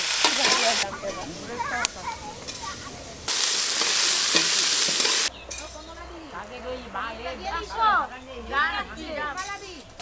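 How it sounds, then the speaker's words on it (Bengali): Vegetables fry and get stirred in a pan at an outdoor family picnic, with loud sizzling bursts and scraping stirs, while people talk throughout. "সব সবজি একটু ভাজা ভাজা হয়ে গেছে"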